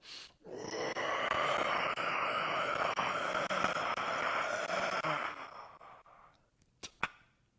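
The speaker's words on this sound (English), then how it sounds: "So that breath, that loud sound is called, we call it San Shin." A loud, forceful breathing exhale pushed through a small aperture, the San Shin breath, runs steadily for about five seconds before fading, followed by a couple of short breathy bursts near the end.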